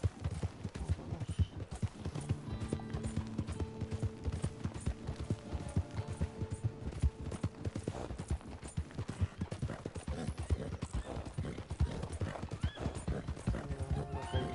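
A horse galloping in Red Dead Redemption Online, with rapid rhythmic hoofbeats and occasional whinnies, close and loud, while someone speaks intermittently over it.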